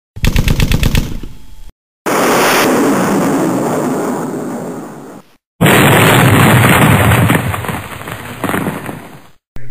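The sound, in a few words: pair of fire-and-forget radar-seeking missiles fired, explosion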